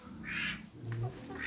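Ducks quack in short bursts at close range around feeding time on a small farm, with a steady low rumble of background noise underneath.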